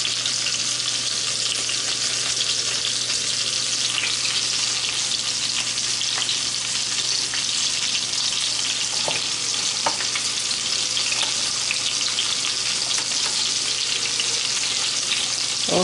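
Chicken pieces for a parmesan chicken dish frying in a pan, a constant loud hiss and crackle of hot oil with a few sharper pops, no voices.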